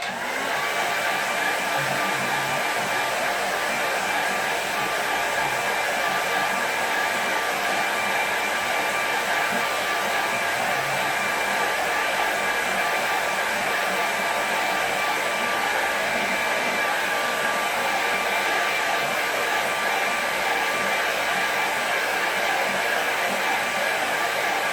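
A hair dryer blows steadily on a watercolour painting, a loud continuous whooshing hum that runs unbroken from start to finish with no talking.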